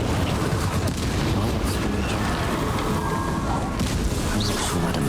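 A fire spell being cast in Hogwarts Legacy, heard as a steady, dense roaring burst of flame with crackling that stays loud and continuous throughout, with no one talking.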